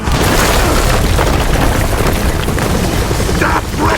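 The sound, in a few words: rocket explosions in the video game Gears of War 4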